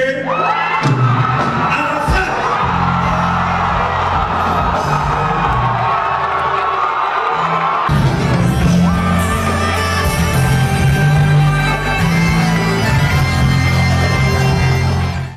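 A loud crowd in an award-ceremony hall cheers and shouts continuously with music playing underneath, a sustained wall of voices that swells briefly midway.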